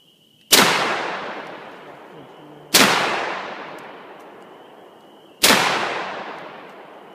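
Saiga 12 shotgun fired outdoors at a soda bottle, three loud, sharp blasts a couple of seconds apart, each followed by a long echoing decay with no talking.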